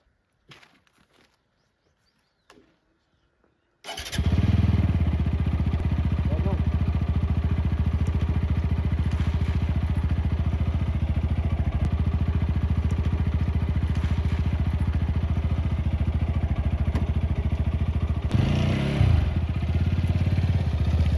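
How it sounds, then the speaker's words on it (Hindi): A motorbike about to carry riders from Simri to Kotdwar starts after a few faint clicks, then its engine idles steadily and loudly at close range for the remaining time, with a slight surge near the end. "तो उसने बाइक ऑन कर दी है"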